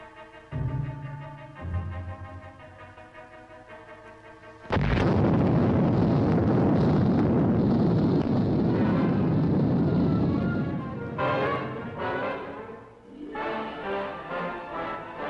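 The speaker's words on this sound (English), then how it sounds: "Nuclear explosion" A nuclear test detonation at Yucca Flats, Nevada, bursts in suddenly as a loud, sustained rumbling roar lasting several seconds before tapering off, with music playing before and after the blast.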